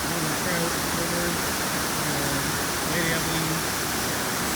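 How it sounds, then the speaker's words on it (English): Bridal Veil Falls on the Smoothwater River in the Temagami wilderness pours as a steady, loud broadband roar of falling water, continuous and close, with faint voices partly buried beneath it. "This is Bridal Veil Falls. We're camping up here at the top of the falls."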